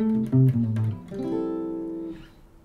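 A 1957 Gibson ES-125 hollow-body electric guitar rings out with a few plucked notes and then a sustained chord that slowly decays, warm and close, with no talking over it.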